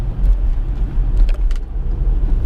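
A car engine drives in a video game with a low, steady rumble and dull road noise. A few faint clicks sit over the top, and no voices are heard.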